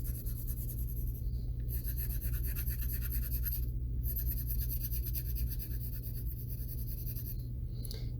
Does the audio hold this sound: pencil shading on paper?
yes